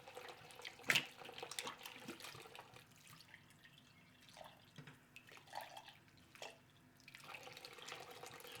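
Water running in a kitchen sink while containers are washed out: a steady low trickle with splashes and clinks, louder near the start and settling into a soft, constant flow.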